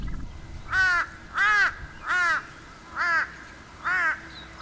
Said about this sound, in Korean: 큰 부리 까마귀다.